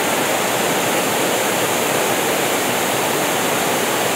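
Steady, dense rush of water pouring down a tier of Chet Sao Noi Waterfall in Muak Lek, Saraburi, Thailand, a continuous broadband roar close by with no pauses and no voices.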